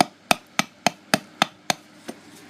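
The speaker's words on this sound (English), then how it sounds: "I'm just making a bunch of just cuts, and then if I want to go deeper, I can just do it with the other end of my hammer." A hammer strikes a stone metate to cut grooves, sounding as sharp, evenly spaced taps about every quarter second, close and crisp, with one softer hit near the end and no speech.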